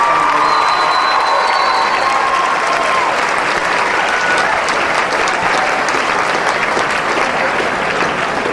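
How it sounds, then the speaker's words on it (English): A high school crowd bursts into loud, sustained applause mixed with cheers and whoops, with a few whistles cutting through early on as the clapping stays dense and close throughout. "Let's give Miss Worthy and her team one more round of applause for a fantastic."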